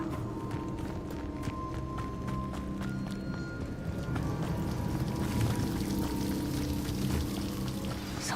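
A steady, rushing waterfall in Hogwarts Legacy, a constant broadband splash and roar that holds at an even level throughout, with a faint tonal music line drifting above it.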